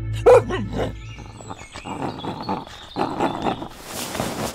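A dog chases someone and tears open a plastic bag of dinuguan, giving a loud sharp bark near the start followed by scuffling and rustling movement nearby.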